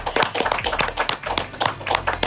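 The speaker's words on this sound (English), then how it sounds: "somebody in the table says an applause for the pitmaster and everybody claps" A small group clapping at an Argentine asado table in Buenos Aires, honoring the grill master with close, crisp, uneven hand claps in quick bursts.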